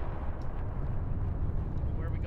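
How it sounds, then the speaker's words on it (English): Dense, continuous rumble of distant explosions and artillery-like blasts in the Planetside 2 game, a steady low booming wash with no clear separate hits, while players talk over it. "I'm listening to the explosions"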